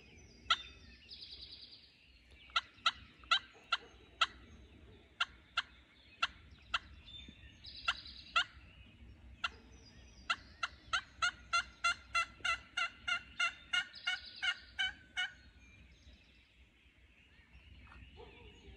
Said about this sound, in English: Turkey up in the field.